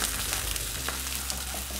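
Steady, loud sizzling of meat searing in a hot pan, a continuous crackling hiss with occasional pops throughout.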